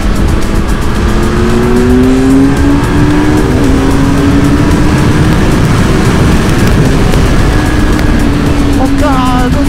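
A 2020 Kawasaki Z900 sport street motorcycle's engine rises and falls through several revs while being ridden, loud and close over steady wind rush, with a voice speaking briefly.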